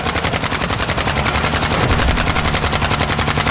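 Sustained automatic gunfire in the game DMZ rattles on without a break, loud and close, a dense rapid stream of shots lasting the whole stretch.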